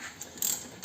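Ratchet wrench loosening the top nut on a Renault Megane 4 shock absorber held in a spring compressor: a brief burst of quick, close mechanical clicking, fairly quiet.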